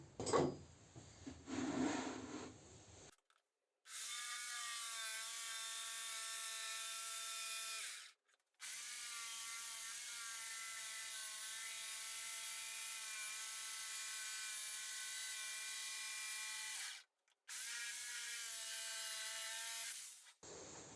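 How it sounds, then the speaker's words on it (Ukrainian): Thin plywood parts for a napkin holder being cut out, a steady, loud mechanical whine in long sustained runs broken by short silent pauses, after a brief rustling start. "Відпилюю так, щоб усі лінії розмітки залишились на деталі"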